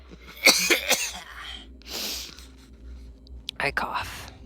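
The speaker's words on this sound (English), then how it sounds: "I cough." A couple of short, sharp coughs up close, followed by a breathy rasp and another quick cough, with no talking.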